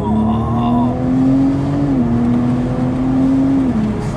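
A 2019 BMW Z4 M40i roadster, top down, pulling hard through the gears, its engine note climbing steadily and loud, with a brief dip as it shifts.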